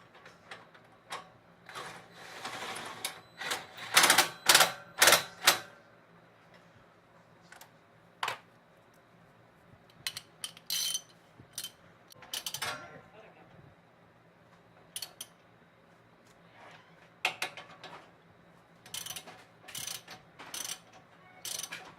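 Bolts on a Mustang lowering spring install being tightened by hand, heard as clusters of sharp metallic ratcheting clicks in bursts with pauses, close and moderately loud over a low steady hum.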